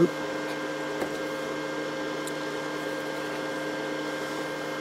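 A Harbor Freight Chicago Electric Flux 90 flux-core welder feeds wire against a wood surface, giving a steady, even mechanical whir and hum that runs close and unbroken throughout, with no talking.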